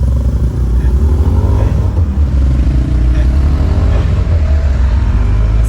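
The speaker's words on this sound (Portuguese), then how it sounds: "E passou um cara de moto aqui" A motorcycle passes close by on a road in Honduras, its engine loudly revving and rising and falling in pitch over a rumbling road background.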